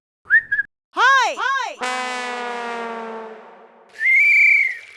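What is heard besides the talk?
whistle blown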